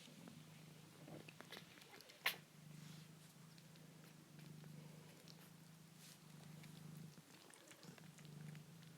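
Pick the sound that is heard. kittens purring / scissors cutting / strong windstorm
kittens purring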